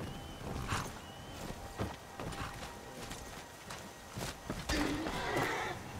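A horse in the Skyrim video game plays its death cry as it despawns, with whinnying and clip-clopping hoof sounds among scattered game effects, fairly faint.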